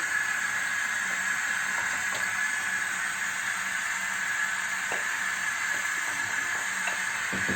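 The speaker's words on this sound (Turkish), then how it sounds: "Suyum kaynıyor." Steady hissing, bubbling water boiling in a pot, continuous and close, with a few faint clinks in the background.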